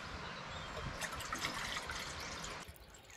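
Water is poured into a container while making homemade conker soap from horse chestnuts, a faint close trickle that swells into a brief louder splashing fill and then tapers off.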